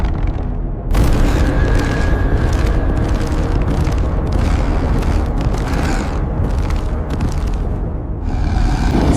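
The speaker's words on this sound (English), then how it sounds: "the stillness broke with a deep, booming note" A deep, booming film sound effect for a creature's call rolls out loud and sustained, a heavy rumbling roar that swells and surges for several seconds after a brief quieter lead-in.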